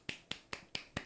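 Five sharp, quick hand claps in a steady, even rhythm, close and fairly quiet, with no talking over them.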